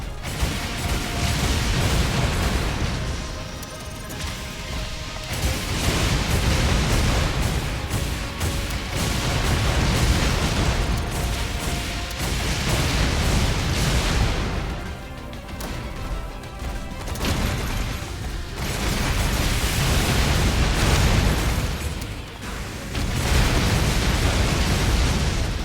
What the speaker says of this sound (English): Oh, it's the cannon.